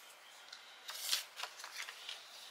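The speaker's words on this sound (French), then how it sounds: "Alors on va marquer les plis." Paper is folded and creased by hand for a scrapbook holiday album, soft crinkling and sliding rustles in short irregular bursts, close and faint.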